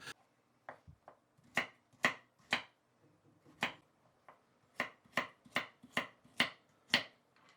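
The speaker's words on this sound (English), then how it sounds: "I just put the carrots in as I was chopping them." A knife chopping carrots on a board, about fifteen sharp, crisp cuts, irregular at first, then falling into a quicker steady rhythm, close up and alone.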